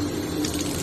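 Water rushing steadily down a clogged drain line being flushed after clearing with a Ryobi P4002 drain auger, a continuous loud broadband gush with no talk.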